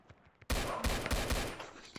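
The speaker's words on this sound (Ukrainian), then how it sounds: "Я прям рівно в тебе стріляю" A sudden burst of rapid video game gunfire in Zona 51 erupts after a short quiet moment, several heavy shots in quick succession, loud and close.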